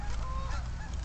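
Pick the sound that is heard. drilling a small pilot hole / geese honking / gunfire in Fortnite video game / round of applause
geese honking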